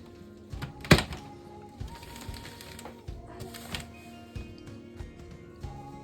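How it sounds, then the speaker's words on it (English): A vacuum sealer works on a bag of boneless pork chops during a home hog harvest, with one sharp thunk early on, then a low mechanical hum and scattered clicks and small knocks, all close by and without speech. "So we're vacuum sealing."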